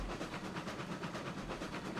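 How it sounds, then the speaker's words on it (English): A switching locomotive running in the railroad game RailRoads Online, a continuous rhythmic chuffing and rumble with regular pulses, steady and fairly close for about two seconds. "I know it's just a switching locomotive"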